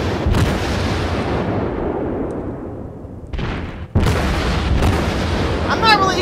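Warship guns firing in World of Warships: heavy booming salvos with a rumbling tail, a sharp burst around the four-second mark, and continued rolling battle noise.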